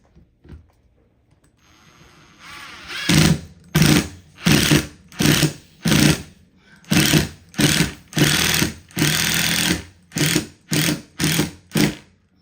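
A power drill drives the two screws that hold a ceiling fan's mount. After a brief rising whir, a run of loud, close, rhythmic bursts comes in rapid succession with short gaps between them.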